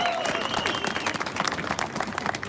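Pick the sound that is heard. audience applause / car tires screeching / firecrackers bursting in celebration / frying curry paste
audience applause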